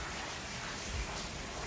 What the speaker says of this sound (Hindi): बारिश सच में बहुत तेज़ हो रही है, आपको आवाज़ भी सुनाई दे रही होगी